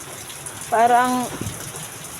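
Heavy typhoon rain pours steadily as a loud, even wash of noise during Typhoon Tino, with a voice briefly exclaiming over it.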